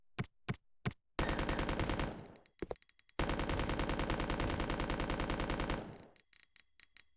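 Submachine gun fire in Resident Evil Code: Veronica X, a few single shots followed by long loud rapid automatic bursts with a short break between them, then fading out, with no talk.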